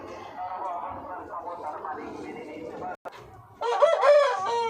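A local domestic chicken clucking and calling loudly at close range near the end, following a stretch of talking voices and a sharp knock.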